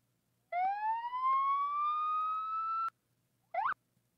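A video game police siren, a code 3 siren, wails in a long rising tone held steady for over two seconds, then a brief second chirp after a short pause; clean and synthetic-sounding.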